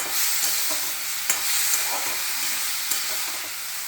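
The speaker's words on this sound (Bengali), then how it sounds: "লাউ আর কুলটাকে একটু কষিয়ে নেব" Bottle gourd and jujube sautéing in a hot pan, a steady close sizzle with a few sharp clicks and scrapes of stirring, no voices.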